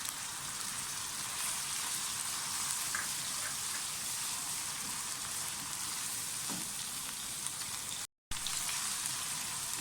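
Cumin seeds sizzle in hot oil with fried onions and garlic-ginger paste for a gobhi chicken dish, a steady crackling fry close by that continues without a break, with no talking.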